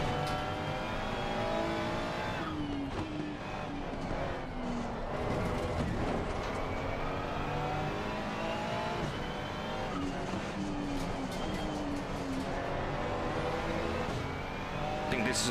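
Race car engine at Zandvoort in a sim racing game, loud and continuous, with pitch sweeping up and down through gear changes and braking zones.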